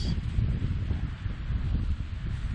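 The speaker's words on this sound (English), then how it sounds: "it's a super windy day" Steady, roaring wind gusts buffet the microphone with low rumbling noise, continuous and fairly loud throughout, with no voices.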